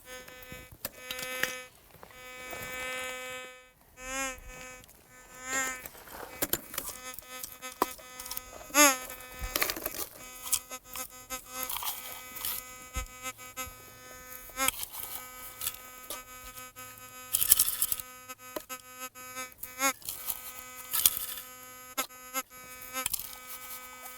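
A metal detector hums a steady, harmonic-rich tone over a small gold nugget in an awkward spot, the buzzing signal wavering and pulsing in strength as the coil sweeps back and forth.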